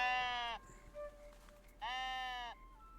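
Two sheep bleats in the video game Tiny Glade: a long wavering bleat, a short pause with a faint blip, then a second long bleat. Both are clear and fairly close, with no talk over them.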